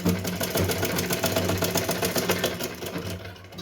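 A sewing machine runs steadily, stitching gota patti trim onto a small Laddu Gopal dress, a continuous close whirring hum with a fast rhythmic needle pulse throughout.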